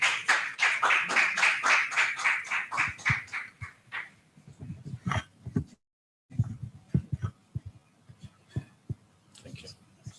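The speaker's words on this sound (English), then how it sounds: "A round of applause for him, please" A group applauds with brisk, steady clapping that thins into scattered claps, a brief pause, then more sporadic claps and voices.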